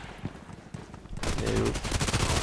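Rapid automatic gunfire in the online shooter Contract Wars, quiet at first and then bursting into sustained, loud, dense shots for the second half.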